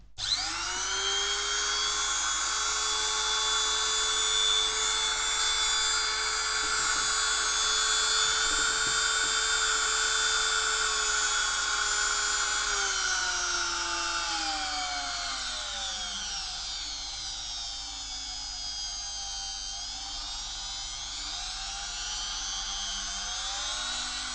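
A KRAISSMANN 175 SGW 96 rotary engraver runs continuously alone, a high steady whine whose pitch drops and rises as its speed is adjusted.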